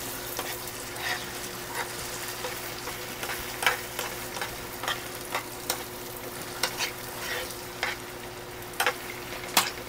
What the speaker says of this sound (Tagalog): Prito lang yan.